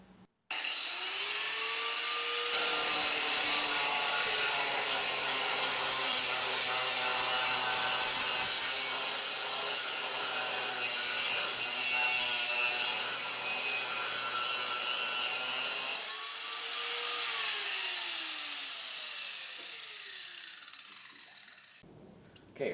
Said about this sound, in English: and then I'm going to get to grinding.